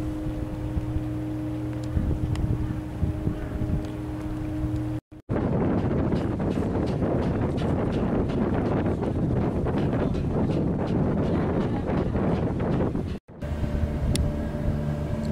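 A traditional Vietnamese bamboo fishing boat passes by, its engine giving a steady loud droning rumble for several seconds, with wind noise and a quieter stretch before and after.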